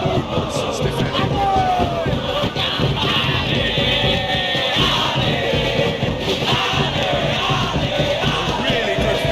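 Stadium crowd noise in the football game eFootball PES 2021 during a Persib Bandung versus Dewa United match, a dense, loud, steady roar with swelling chants and shouts running continuously throughout.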